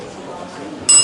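A slightly broken debate timer bell is struck once near the end, giving a bright, sustained metallic ring after a quiet room tone.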